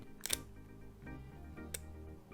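A camera shutter fires for a 1-second exposure: a crisp opening click, about a second of quiet hum, then the closing click, recorded up close.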